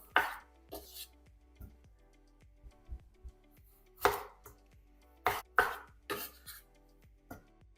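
Knife blade striking a cutting board in irregular bursts of chopping tomatoes and basil for salad, some strokes sharp and close, with pauses between, no talking.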